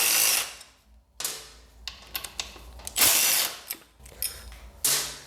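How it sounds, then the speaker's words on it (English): A ratchet works loose the rear set bolts on a Kawasaki ZX10R motorcycle, with bursts of clicking and mechanical rattles between short pauses. It is close and fairly loud, with no talk. "we're just gonna be removing these two bolts here"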